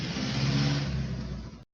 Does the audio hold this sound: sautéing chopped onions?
no